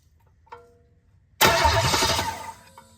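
An engine sitting on the floor is started by bridging the starter posts with a screwdriver; after a small click it cranks and catches into a loud, close rumbling run that briefly steadies and fades.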